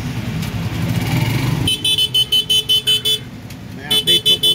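Busy street traffic on Banda Road in Pansol, Calamba, Laguna: a steady engine rumble from motorcycles and cars, then a rapid series of short, loud horn toots repeating rhythmically, close by.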